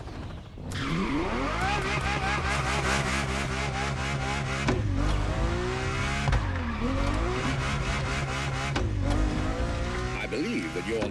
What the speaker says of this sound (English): This was the F50, a sports car that screams performance and racing spirit with every fiber of its being.